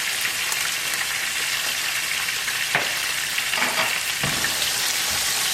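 Chopped tomato and grated ginger fry in hot oil in a pan, a dense, even sizzle that runs the whole time with a few light stirring knocks in the middle.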